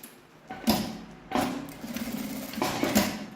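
A sewing machine stitches down the end of a fabric bag strap in three short bursts, each a rapid whirring chatter of the needle, with brief pauses between them, close and moderately quiet.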